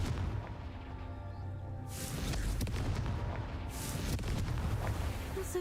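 A Confringo fire spell bursts in Hogwarts Legacy, producing a loud booming blast that swells out of a dense, rumbling game soundscape, followed by a second surge of crackling noise a couple of seconds later.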